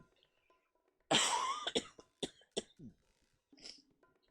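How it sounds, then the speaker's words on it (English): A man coughs several times in short, harsh bursts, close to the mic, with brief pauses between them and a faint throat sound at the end. "so you might be hearing him cough"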